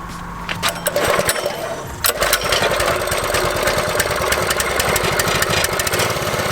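A mini bike engine with no governor revs loudly and close, a rapid rattling buzz that rises after a brief dip and then holds a steady high-speed roar, with no voices.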